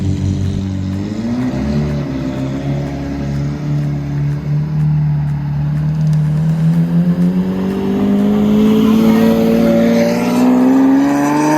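A car engine rises steadily in pitch as the vehicle pulls away and accelerates, a loud close-up hum inside the cabin that holds throughout with no talk.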